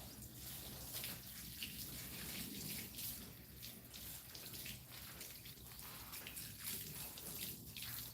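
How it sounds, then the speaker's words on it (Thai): Steady running water streams without pause while a thick-coated dog is washed, a constant close rushing splash filling the whole stretch. "ขนมันหนานะครับ ต้องล้างนานหน่อย"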